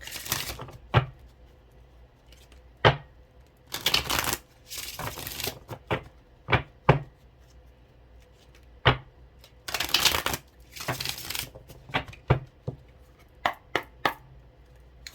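A tarot card deck being shuffled by hand, with repeated riffling bursts and sharp taps as the cards are squared, close and clear with short quiet gaps between shuffles.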